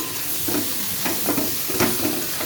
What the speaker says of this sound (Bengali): লাউ শাকটা আমার কষা বসিয়ে দিয়েছি একেবারে অল্প করে একটু মশলা দিয়ে সর্ষে পোস্ত বাটা দিয়েছি